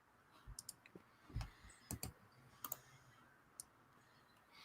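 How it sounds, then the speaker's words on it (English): Faint, scattered computer mouse clicks tick irregularly in a quiet room, with short sharp clusters and some gaps between them. "It's a lot of random mouse clicks going on in the background"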